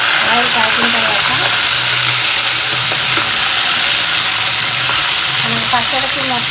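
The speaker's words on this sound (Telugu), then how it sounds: "డీప్ ఫ్రైకి వేసేసుకున్నామండి. ఆయిల్లో వేసుకున్నాం." Prawns deep frying in hot oil give off a loud, steady bubbling sizzle that runs the whole time, with soft background sounds and a hint of voice underneath.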